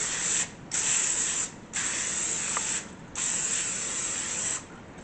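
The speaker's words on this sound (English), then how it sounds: "What we're going to do is spray it with this olive oil cooking spray." Olive oil cooking spray misted onto a parchment-lined 12.5-inch pizza pan: three or four steady hissing bursts, each about a second long, close and fairly loud with short gaps between them.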